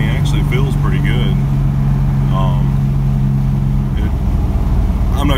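Engine of a right-hand-drive 1993 Nissan 300ZX twin turbo fitted with a cold air intake drones loudly under acceleration, a steady low roar heard from inside the car, with someone talking over it.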